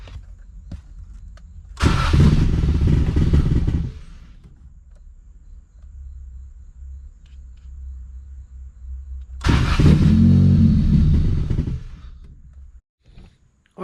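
A Honda Civic EF hatchback engine rises twice into a loud sustained rev under throttle over a low idle, then settles back to the idle between blips.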